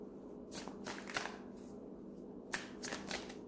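Tarot cards being shuffled by hand make soft, quick riffling bursts with a few sharper snaps, close but quiet, in a calm room with no speech.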